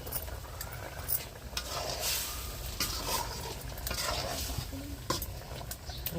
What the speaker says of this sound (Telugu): చూడండి ఫ్రెండ్స్, చికెన్ అయితే మంచిగా ఉడుకుతుంది